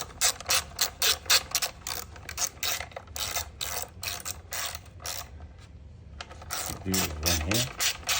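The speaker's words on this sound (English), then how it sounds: "Grab your ratchet. Check it out. It just screws right in." A hand ratchet clicks rapidly while driving a screw into a KTM dirt bike skid plate, a loud, close, steady run of ratcheting clicks that pauses briefly and then resumes, with a voice over the end.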